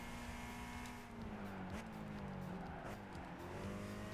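Race car engine in Gran Turismo 5 droning loud and steady, with pitch drops as it downshifts through gears, plus faint tire squeal, continuous and alone without talk.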